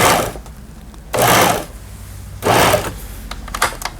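A Pfaff 6110 sewing machine, partly disassembled for repair, stitches a test seam in two short, loud, rapid whirring bursts separated by quiet pauses, then gives a few lighter mechanical clicks.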